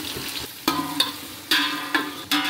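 Onions frying with masala in a pan sizzle steadily while a spoon strikes and scrapes the pan in several sharp, close knocks at irregular intervals, with no talk.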